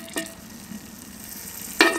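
Chili peppers frying in hot oil for chili oil, a soft steady sizzle with a couple of sharper crackling bursts near the start and end, with no one talking.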